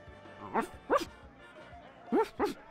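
Four short dog barks from The Secret of Monkey Island, spaced in two pairs and fairly clear, with a faint background game tone.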